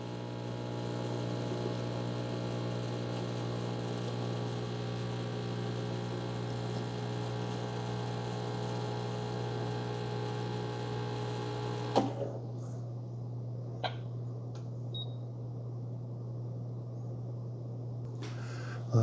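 A Mr. Coffee One-Touch Coffeehouse espresso machine pulls a double espresso with a steady, even pump hum for about twelve seconds, then cuts off abruptly, leaving a few faint clicks and taps.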